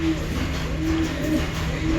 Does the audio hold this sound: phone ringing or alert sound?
no